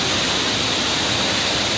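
Strong water rushes at Alalum Falls, a natural waterfall: a loud, dense, unbroken roar heard up close for the whole stretch, with no voices over it.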